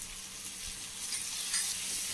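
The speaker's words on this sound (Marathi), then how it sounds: "आणि तर अजून एक 5 मिनिटं हा मसाला आपण चांगला परतून घेऊ" Masala for matar paneer stir-fried in a pan, a steady bright sizzle with soft stirring scrapes, close and continuous with no voices.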